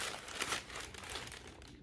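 A book package is torn open by hand at close range, quiet crinkling and ripping of paper and plastic wrapping in short, uneven bursts.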